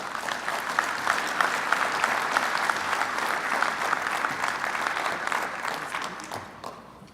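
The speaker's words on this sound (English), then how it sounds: "A round of applause for Bill Owens" A conference audience gives sustained applause, a dense even roar of many hands clapping for about seven seconds before tapering off at the end.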